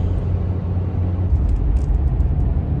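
A pickup truck driving on the road on the way home, with a steady low engine and road rumble filling the cabin throughout, no talking.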